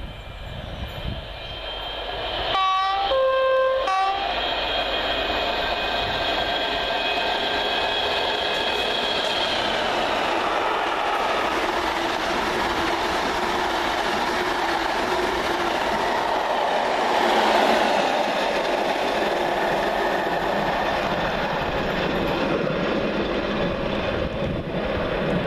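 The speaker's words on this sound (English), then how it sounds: "Fast train approaching." A fast train roars past close by, a loud sustained rush of wheels and rail noise with a brief horn blast near the start.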